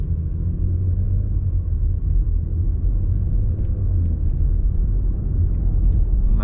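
A 2017 Audi SQ5 TFSI engine, freshly repaired after internal damage, accelerates gently at low RPM with a steady, loud, continuous low rumble and no audible clicking.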